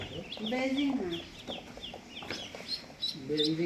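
A Belgian Pekin duck gives a series of nasal, honking calls at close range, alongside some background voices.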